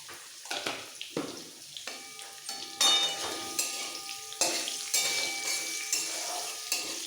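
Potatoes fry in oil with salt and turmeric, a close sizzle punctuated by the clatter and scrape of a spatula stirring in the pan.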